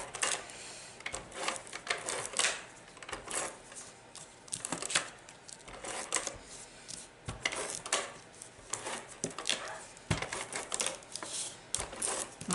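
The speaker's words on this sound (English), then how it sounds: "My ATG gun is a little cold" An ATG adhesive tape gun, running a little cold, applies adhesive to four paper flaps in a series of close, irregular clicking and rasping bursts with short pauses, with no talking.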